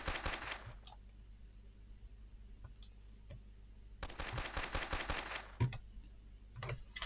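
Rapid gunfire from a weapon in a first-person shooter made with EFPSE, quick bursts of sharp shots in two clusters with scattered single shots between, over a low steady game hum.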